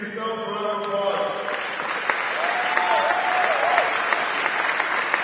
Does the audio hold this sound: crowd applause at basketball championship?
yes